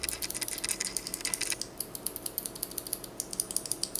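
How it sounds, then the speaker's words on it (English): Crisp, rapid clicking of Aristotle Blue clicky mechanical keyboard switches, a steady run of sharp, close keypresses with no voices. "And then the Blue, which has a really nice click"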